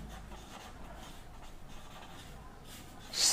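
Pen scratching on paper while geometry is written out, a soft continuous scribble close by with faint background noise and a brief louder rustle at the end.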